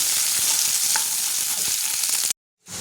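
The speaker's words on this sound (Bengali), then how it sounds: "পেঁয়াজটা আমি লাল করে ভেজে নেব" Chopped onion fries in hot oil after cardamom for biryani, a loud, steady, close sizzle with faint stirring knocks underneath, cutting off abruptly near the end before briefly returning.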